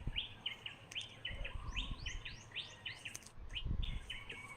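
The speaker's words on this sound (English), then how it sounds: "Oh, the world is waking up. The birds, the roosters." Birds chirp and call at dawn in a steady, layered chorus of repeated bright tweets; no clear rooster crow stands out, and low background rumble sits beneath the birdsong.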